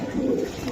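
Racing pigeons at a loft give a brief, soft low coo, close and steady, under faint background noise.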